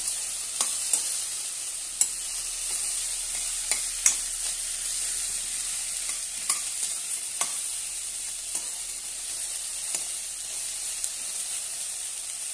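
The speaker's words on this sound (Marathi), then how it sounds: "भेंडी बारीक कट केलेली आहे आपण ती घालूया। छानपैकी तेलामध्ये परतून घेऊया।" Finely chopped okra sautés in hot oil in a pan, giving a loud, steady sizzle with scattered crackles and occasional sharp taps of a spoon stirring against the pan.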